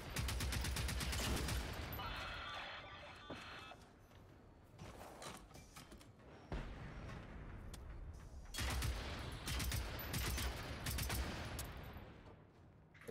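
Gunfire from a harvester robot in the video game Generation Zero, heard as loud, dense bursts of shots that come in waves over a sustained noisy battle, with brief lulls between volleys.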